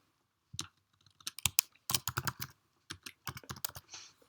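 Crisp computer keyboard typing of a short label, close and alone: scattered individual key taps, then quick clusters of keystrokes with short gaps between bursts.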